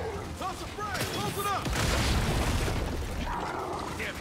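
Heavy Boomshot launcher firing in the Gears 5 video game, a deep booming blast with a rumbling explosive tail filling the clip, while a voice talks briefly near the start.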